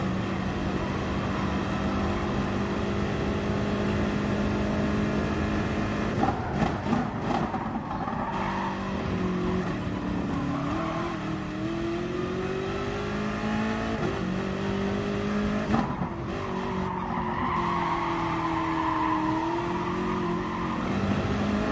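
A BMW race car engine roars in a sim racing challenge, revving up and down through gear changes with tire squeal, loud and continuous throughout the lap without any speech.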